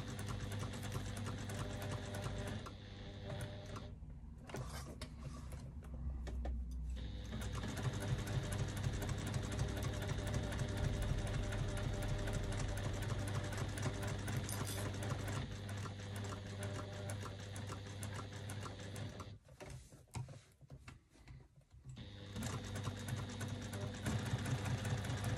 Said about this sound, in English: Back stitch a couple of stitches at the beginning to secure my stitching.